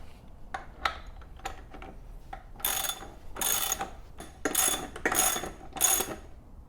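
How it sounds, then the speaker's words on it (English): A ratchet with a 14 mm socket tightens a Kawasaki Ninja 1000 front axle, with light clicks and taps followed by several bursts of rapid ratcheting, fairly close and quiet, with no voices. "And then we're going to tighten it with the 14 millimeter."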